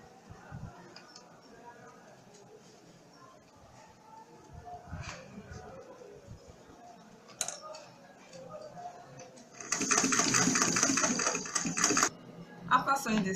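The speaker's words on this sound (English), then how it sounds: "take the sewing machine and sew." A sewing machine stitches the seam of a studded triangle purse with a zip, running in a fast, steady mechanical burst near the end after quieter handling sounds.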